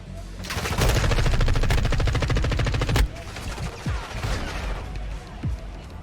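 Rapid automatic gunfire in Call of Duty, a dense rattling burst lasting a few seconds, then scattered single shots and game effects, loud and close.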